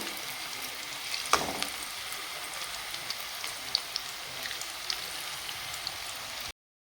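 Small cauliflower florets fry in hot oil for chili gobi, giving a steady, moderately quiet sizzle with scattered crackles and one sharp pop early on.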